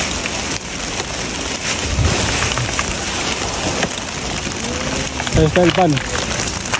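Rain falling during a dumpster-diving outing: a steady, loud hiss of drops on surfaces throughout, with people talking over it.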